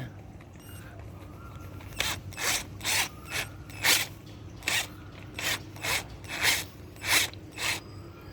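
A soil auger attachment spins through soil mixed with coconut coir, giving a steady run of roughly a dozen rhythmic, raspy grinding bursts over a low background rumble, close and moderately loud.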